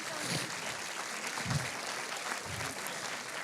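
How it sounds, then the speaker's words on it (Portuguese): Brief applause from a church congregation during a Portuguese-language sermon, a soft wash of clapping with a couple of low bumps, moderately quiet and heard at a distance. "Você pode dar uma salva de palmas a Jesus?"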